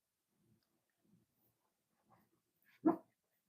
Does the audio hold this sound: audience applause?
no